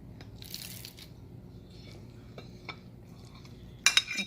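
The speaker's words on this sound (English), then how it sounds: "So I'm kind of like mashing the garlic into the openings of the steak." A fork scrapes and clinks against a dish while garlic is pressed into steak for a Sicilian marinade, giving soft scattered scratches and a sharp clatter near the end.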